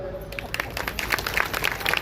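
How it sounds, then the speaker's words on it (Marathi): An audience at a Marathi kirtan claps hands in quick, uneven bursts of overlapping claps, loud and close, while a voice carries on underneath. "टाळी वाजव बरं"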